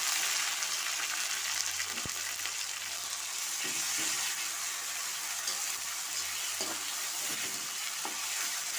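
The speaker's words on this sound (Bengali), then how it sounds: "দিয়ে এখন আমি মশলাটা ভালো করে কষিয়ে নেব।" A ground spice paste of ginger, garlic, cumin, onion and green chili fries in hot oil while cooking magur fish, giving a loud continuous sizzle with occasional stirring scrapes and a sharp tap near the start.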